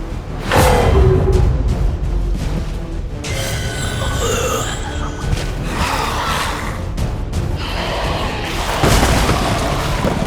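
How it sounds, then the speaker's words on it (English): A grenade explosion in the video game XCOM 2 bursts into a heavy boom, followed by rumbling debris, crackling fire and layered game effects that hold steady at high volume. "Throwing grenade! Multiple enemies neutralized!"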